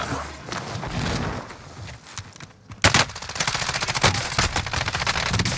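Rapid automatic gunfire in a video game shooter: a brief lull, then loud, close, sustained bursts of fast repeating shots to the end.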